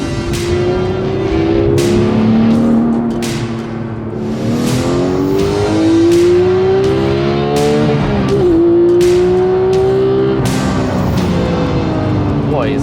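A Porsche 991.2 911 GT3 engine revs hard and accelerates through repeated gear changes, its loud, close, rising howl dropping sharply at each shift and climbing again over about thirteen seconds.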